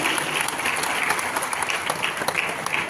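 A crowd at a Hindu religious festival in Kota claps for a local MLA, a dense, steady burst of applause that fills the whole moment with no talk over it.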